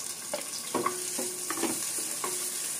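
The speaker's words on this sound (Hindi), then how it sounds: "तो ये जो वेजीज हैं इनको मैं सॉटे कर रही हूँ हल्का सा" Mixed vegetables sauté in a little oil in a pan at home for a tava veg pizza, a steady close sizzle broken by several stirs and scrapes of a spatula against the pan, with no talk.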